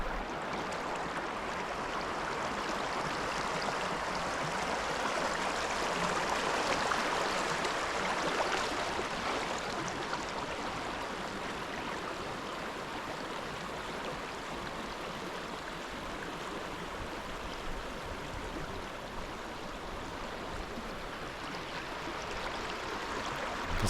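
River water flowing steadily at a muddy riverbank, a continuous broadband rush and gurgle that stays even and close, with no voices.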